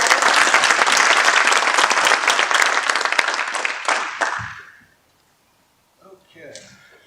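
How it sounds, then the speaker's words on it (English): Audience applause at a chamber of commerce civic event, a dense round of clapping from a crowd that fills the room for about four seconds, then fades out, followed by a short silence and a brief bit of talking. "If we can get one round of applause so we don't have to clap between each other."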